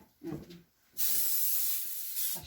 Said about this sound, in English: Spray vegetables. You right spray? here. Just spray it about down to right here.